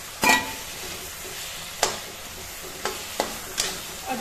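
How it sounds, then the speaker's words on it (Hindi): Tomatoes sizzle in a pan for a Mithila-style Biriya vegetable dish, with a low steady frying hiss broken by several sharp scrapes and clinks as a spoon stirs, close by and moderately quiet, with no talking. "और टमाटर को भी अच्छी तरीके से भूनेंगे"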